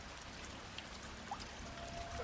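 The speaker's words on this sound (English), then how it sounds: "I swear it's raining horribly." Rain falls steadily in the open during a motorcycle ride, a dense even hiss of drops with a few louder individual splashes, close and continuous throughout.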